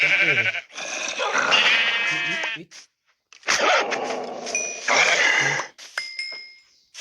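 Several loud sheep bleats from a zombie survival video game come in bursts, separated by short silences, with a few steady electronic tones near the end.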